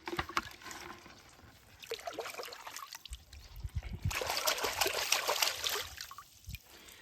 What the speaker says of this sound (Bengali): ঠিক একইভাবে সব কাঁকড়াগুলাই ভালো করে ধুই নিব